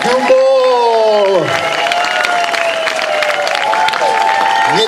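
Audience at a banjo festival concert in Čáslav clapping and cheering loudly and continuously, with a sustained tone and voices mixed into the crowd noise.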